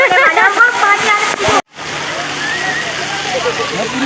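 Water pouring and dripping at Fiesta water park, a constant rushing splash close by, with people talking over it at first before the water carries on alone.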